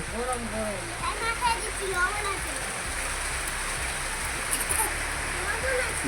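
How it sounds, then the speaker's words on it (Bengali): Steady rain falling with wind blowing in a village, a continuous soft hiss throughout while a person talks over it. "হাওয়া বইছে বৃষ্টি পড়ছে"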